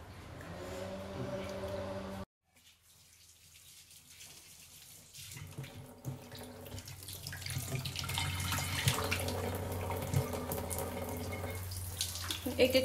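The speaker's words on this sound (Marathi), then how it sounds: "एक पीस धुवून घ्यायचा ना व्यवस्थित क्लीन करून" Fish pieces for a Konkan-style fish fry being rinsed under a running tap, a steady close water rush that swells louder after a brief cut, with light splashing and clatter mixed in.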